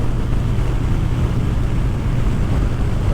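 Strong wind buffeting the microphone on a moving motorcycle, a loud, steady low roar that fills the whole moment without any voice.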